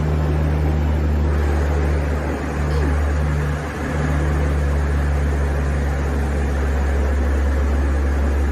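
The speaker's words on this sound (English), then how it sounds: "This firefighting pilot brought this plane into this harbor to scoop up some water." Firefighting plane working low over a harbor to scoop up water, a steady loud engine drone with broad rushing noise filling the scene throughout, swelling briefly near the middle.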